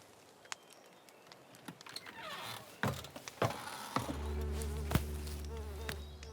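Mosquitoes buzz inside a tent on a hot 80-degree Louisiana evening: a thin, steady insect whine that swells and holds near the ear in the second half, with scattered knocks and thumps of movement around it.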